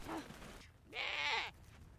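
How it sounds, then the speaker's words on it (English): Goats on the Mongolian steppe bleat twice, a short call followed by a longer, louder wavering bleat, fairly close in open quiet air. "Bayarhu and his schoolmate Single herd a tribe of goats in search of better grazing grounds"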